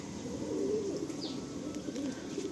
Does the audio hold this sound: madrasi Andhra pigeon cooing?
yes